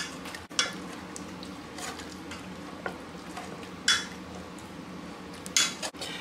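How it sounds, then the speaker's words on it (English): Potato masher working steamed squash in a pan, soft squishing and scraping with a few sharp metallic clinks against the pan, fairly quiet and close. "I'm going to mash it up with a potato masher"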